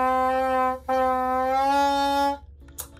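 A bassoon bocal blown on its own, without the instrument body, gives a reedy, buzzing sustained tone. It breaks briefly, resumes at the same pitch, then cuts off cleanly.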